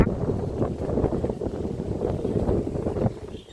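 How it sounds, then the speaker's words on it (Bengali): Steady cold wind gusts buffet the microphone at a river launch ghat on the Kutighat to Bagbazar river route, a broad low rumble lasting throughout with no talk. "ঠান্ডা হাওয়া দিচ্ছে"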